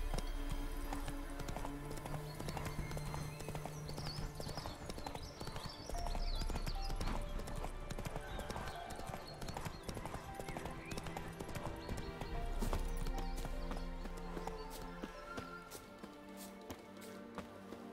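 A horse's hooves clip-clop steadily in The Witcher 3 video game, a continuous rhythmic trot with game music and ambient sound layered throughout.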